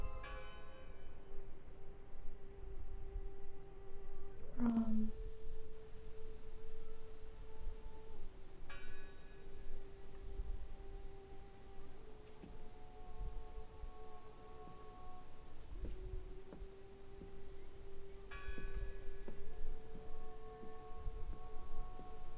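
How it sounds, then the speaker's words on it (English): A church bell tolls in the game Draugen, a few distant strikes spaced far apart over a steady low ambient drone. "Listen! The bell!"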